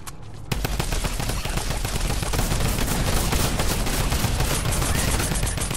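Sustained automatic gunfire in Fortnite, loud and continuous after a brief quiet start, rapid shots blending into a dense rattling stream with no talk.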